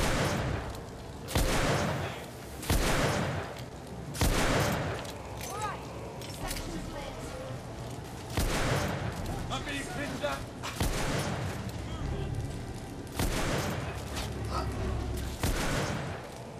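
Repeated gunfire from the Victorian-era shooter video game The Order: 1886, with loud bursts of shots at irregular intervals over continuous battle noise and a voice.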